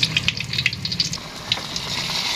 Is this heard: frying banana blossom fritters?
yes